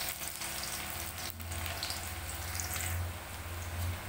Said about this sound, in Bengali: পেঁয়াজ ভেজে নেব, পেঁয়াজ আমি লাল লাল করে ভাজব না।